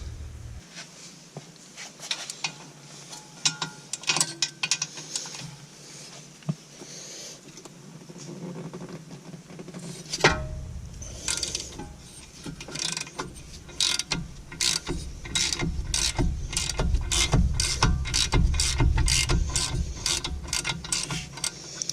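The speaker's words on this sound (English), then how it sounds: "you might have to get a bigger wrench or a breaker bar or something on there to break those loose" A wrench or breaker bar works on a car's brake caliper bolts, soft clicks and creaks at first, then a sharp crack and rapid, loud ratcheting clicks in a steady rhythm, close up, no talking.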